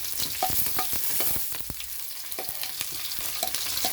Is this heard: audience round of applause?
no